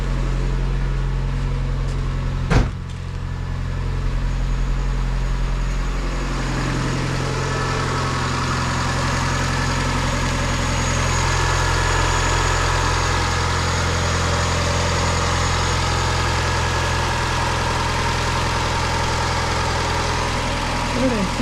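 A car engine idles steadily while warming up from cold, a low, even rumble that holds for the whole stretch, with one sharp click near the start.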